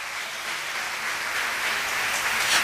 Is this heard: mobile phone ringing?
no